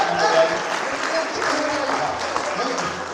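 An audience applauds at a talk by a poet, with a steady wash of clapping throughout and a voice speaking over it.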